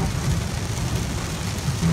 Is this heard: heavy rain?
yes